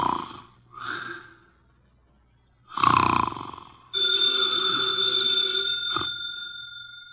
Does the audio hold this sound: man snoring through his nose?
yes